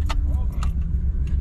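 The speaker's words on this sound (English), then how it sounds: "Twist the key, she'll fire up." Ignition keys jingle and turn in a police car with a 440 cubic inch engine, bright metallic jangles over a low idling rumble as the motor fires.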